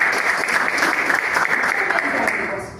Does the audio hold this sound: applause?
yes